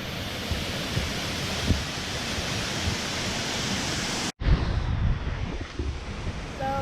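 A waterfall in the Brecon Beacons roars with a steady, broad rushing wash close by, with a sudden cut midway and the same rush continuing afterward.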